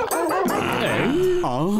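A cartoon police dog gives a few short, voiced yips and whimpering barks, close and fairly loud, sounding like a voice actor imitating a dog.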